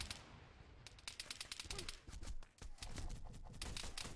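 Bursts of enemy gunfire in a video game, rapid cracking shots in loose clusters at moderate distance, fairly quiet overall with a brief lull midway before the firing resumes.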